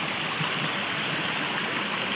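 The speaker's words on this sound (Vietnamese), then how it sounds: "Đó, những cái khe suối nè" A mountain stream flows steadily over sand and quartz-strewn banks, a close, even rushing hiss with no voices.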